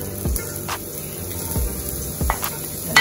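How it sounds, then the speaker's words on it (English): Onions going into a hot pan with beef cooking in its own fat, giving a steady close sizzle with a few brief bursts of spatter and stirring, no talk. "I'm gonna put the onions"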